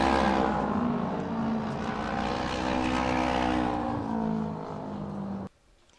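Auto race motorcycles pack together coming out of the fourth corner onto the final straight, their engines a loud, steady, full-throated roar that holds for several seconds and then cuts off abruptly.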